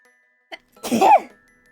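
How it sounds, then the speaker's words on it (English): A single sharp sneeze, close and fairly loud, with a quick sharp intake just before it and a brief trailing exhale. "46 sneezes"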